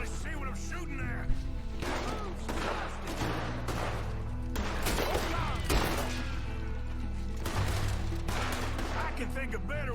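Gunfire in a Red Dead Redemption 2 shootout at night, with repeated shots and crashes over dense game music and ambience, while characters talk throughout.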